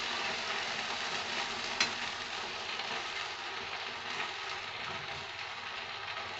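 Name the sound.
stirring and frying ginger-cumin paste with onions in pan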